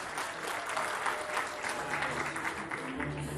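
Applause from a university community at a diploma ceremony at the University of Kinshasa, a dense steady patter of clapping with some murmured voices and a low hum underneath toward the end.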